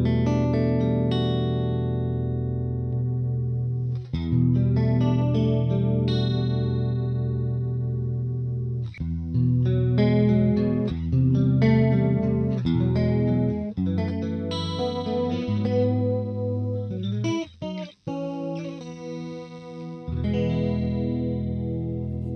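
An electric guitar runs through a chorus pedal on a mini pedalboard, playing sustained chords and single notes with a shimmering, wavering modulated tone, loud and close, with brief pauses between phrases.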